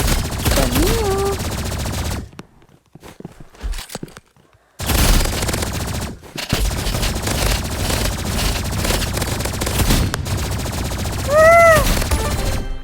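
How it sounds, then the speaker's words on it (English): Energy pistols firing in a shooter video game, rapid close bursts of automatic shots filling most of the stretch, broken by a short quiet gap, with a few electronic chirps. "he's using the sniper and I'm using the energy pistols."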